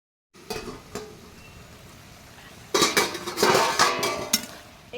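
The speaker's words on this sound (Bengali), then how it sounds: "এটাকে আবার ভালো করে নাড়িয়ে চাড়িয়ে কষাবো সুন্দরভাবে।" Soybean curry masala being stirred and sautéed in a pot, with sharp spoon scrapes and clinks against the metal, then a louder burst of sizzling and scraping, close up and without talk.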